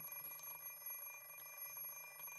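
An alarm clock ringing in a video game, a faint, steady electronic tone that repeats without pause throughout, with no voices over it.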